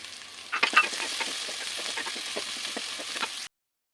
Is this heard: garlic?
yes